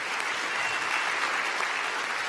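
An audience at the NG-DE 2024 tech conference applauds at the end of day one, a dense, even patter of many hands clapping continuously, fairly close and with no talking over it.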